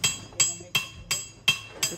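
Metal being hammered into a machete in a neighbouring workshop. Six sharp, ringing blows land at an even, steady rhythm, moderately distant, with no talk.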